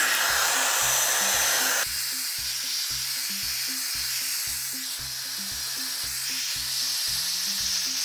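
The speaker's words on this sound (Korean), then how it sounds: "오늘은 저의 에어랩으로 머리를 해보겠습니다." A Dyson Airwrap hair styler blows air steadily while styling hair, a loud continuous whooshing hiss that drops slightly in level partway through, with a rhythmic thumping music beat underneath.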